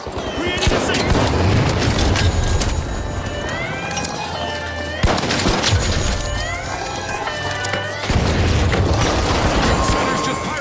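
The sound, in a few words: frag grenade explosion, video game The Finals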